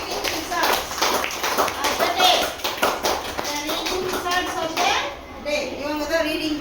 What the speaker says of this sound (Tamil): ஓகே, இவங்க எல்லாத்துக்குமே ஒரு பிக் கிளாப் கொடுத்துடலாமா குட்டி?